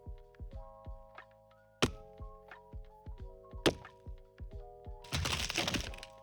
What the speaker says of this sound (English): So if this ever happens, destroy the hatch.